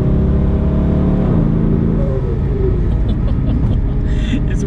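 A 1,300 bhp biturbo Mercedes C63 AMG engine heard from inside the car, a loud dense rumble that eases off as the throttle lifts, with turbo whooshes and faint chatter from the car over the last seconds.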